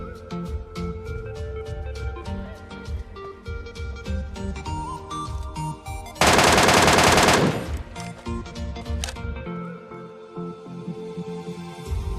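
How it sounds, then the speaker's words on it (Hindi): Rapid video game gunfire, bursts of automatic shots crackling in quick succession with a loud, dense volley midway, then fading to sparse shots. "अब जब मैं यहाँ पे आता हूँ तो फायरिंग की आवाज़ भी आने लगती है"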